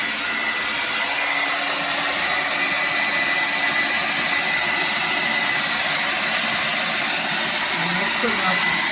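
A Revlon Turbo 1875-watt hair dryer running, a steady loud whooshing blower hum with a faint whine, continuous and unchanging, with a voice talking over it.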